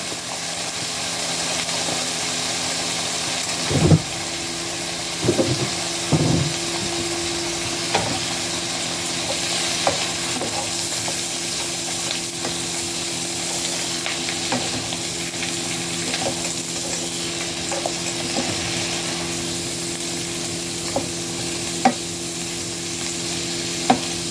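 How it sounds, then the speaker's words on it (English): Garlic and vegetables frying in an already hot skillet give off a continuous dense sizzle with a steady hum underneath, broken by occasional knocks and scrapes from stirring, close and fairly loud with no talking. "So I'm going to add a little garlic in there."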